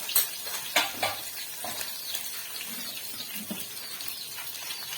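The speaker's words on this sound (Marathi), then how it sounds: "छानपैकी आपण फोडणी द्यायची आहे." Tempering of mustard seeds, cumin, garlic, green chili, curry leaves and asafoetida sizzling in hot oil in a pan, a close steady fry with a few sharp pops and stirring clinks, no talk.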